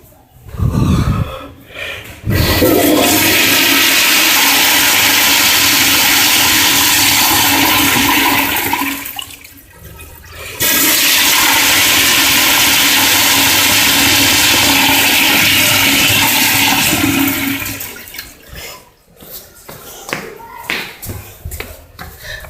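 A Kohler Stratton back spud toilet flushes repeatedly in a bathroom at Harkness Memorial State Park, a loud, close rush of water that cuts off briefly, surges again, then gurgles and tapers as the tank refills.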